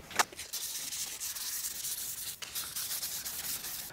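A Squier P-Bass body being sanded during a refinish gives a continuous, close scratchy rubbing hiss with brief pauses between strokes, heard alone without talk.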